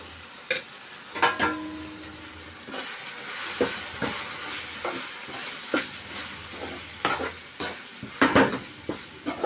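Chilli powder sizzles in hot oil for a dried fish curry while a spoon scrapes and stirs the pan in irregular bursts, close and steady.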